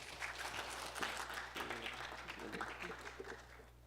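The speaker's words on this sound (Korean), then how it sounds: "뜨거운 박수로 환영해 주십시오." Applause welcomes the first presenting team at the 2018 horse industry idea contest, a moderately quiet, steady patter of many hands clapping in a hall, with a voice briefly audible among it.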